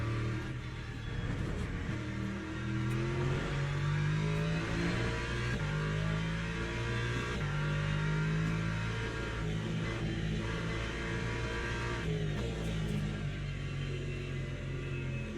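A race car engine in Le Mans Ultimate drones steadily at high revs, a loud continuous whine with shifting pitch as the driver warms the tyres at Le Mans, with no talking.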